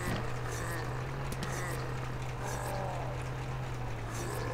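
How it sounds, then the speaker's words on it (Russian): Engine of a jet-powered military vehicle in a zombie driving video game, a steady low drone and roar that runs unbroken through the whole stretch at an even level, with no talking. "Что ж, пора включить нам двигатель"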